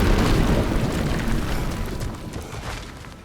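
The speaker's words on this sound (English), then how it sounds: "We have some bombs we can throw." Bombs in God of War Ragnarök erupt with a deep, rumbling explosion that fills the soundscape and slowly decays over a few seconds, heard alone.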